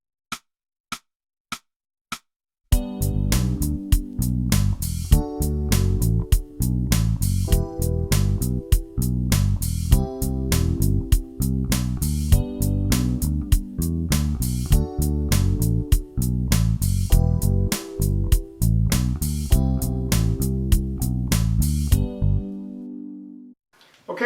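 A bass line on bass guitar in a lesson on building bass lines, with four count-in clicks followed by a steady, rhythmic run of plucked low notes that carries on for about twenty seconds and then stops.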